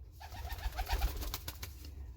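A pigeon coos in a pigeon loft, a series of soft, throaty rolling coos close by, quiet and steady against a hushed background.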